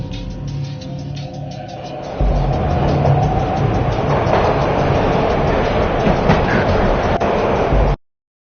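A train ride in a video game: a steady, loud rolling rumble with rattling swells in after a quieter opening and carries on without a break until it cuts off abruptly.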